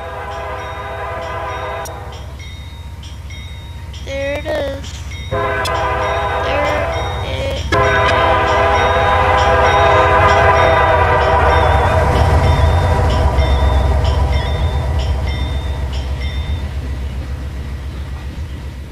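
A CP or CN train passes close by, sounding several loud sustained horn blasts over a heavy, continuous rumble of rolling wagons that builds and stays strong to the end.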